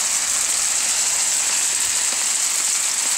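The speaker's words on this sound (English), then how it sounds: "Look at all that hail." Dense hail comes down outside in a constant, loud rushing patter that barely varies from start to finish, with no voices.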